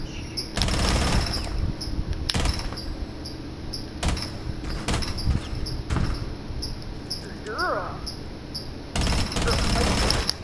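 Gunfire in the Rainbow Six Siege game: sharp, loud bursts of shots recur at irregular intervals, some isolated single cracks, with a steady game background between them and occasional voices.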